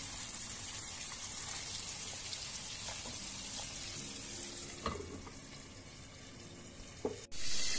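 Fish sizzles softly in oil, a constant crackling hiss with occasional light taps and a sharp click near the end.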